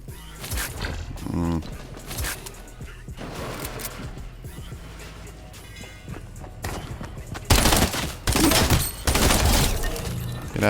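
A purple pistol fires in a video game amid chaotic combat: sharp, loud gunshot bursts, clustered and heaviest near the end, with clattering mechanical sounds and a streamer talking at times.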